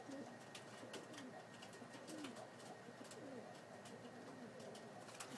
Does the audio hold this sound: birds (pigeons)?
yes